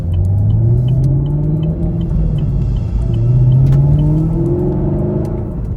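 Chevrolet Camaro SS 1LE driving over a rough construction-site road, a loud, steady engine rumble with rising and falling revs and a low road drone throughout, close up, with no talking.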